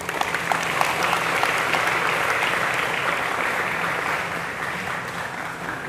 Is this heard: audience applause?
yes